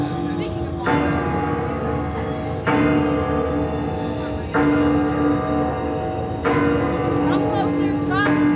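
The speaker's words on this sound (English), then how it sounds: "The bell means that monsters have been sighted." A large bell tolls repeatedly at the Dark Universe area of the Epic Universe theme park, with loud, resonant strikes about every two seconds, each ringing out and overlapping the last, while people talk underneath.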